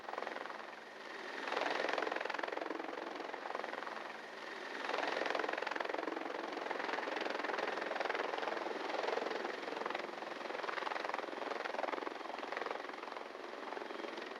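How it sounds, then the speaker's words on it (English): Helicopter lifting off and climbing during a Hollywood movie stunt, a steady loud rotor chop and turbine roar that holds strong and even throughout with no talk. "he hangs on as the copter rises into the sky."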